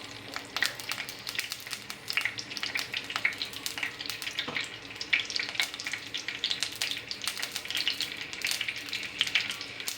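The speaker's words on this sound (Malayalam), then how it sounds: "കടുക് പൊട്ടി വരട്ടെ" Mustard seeds spluttering in hot oil, a continuous crackle of quick pops and sizzling heard up close for the whole stretch, with no voices.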